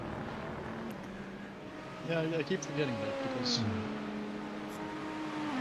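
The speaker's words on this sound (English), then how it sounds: "I like the sound of the Beamer" A BMW V8 turbo GTP race car engine drones steadily in a racing video game around Sebring's bumpy circuit, a low sustained tone that rises briefly midway while a person talks over it.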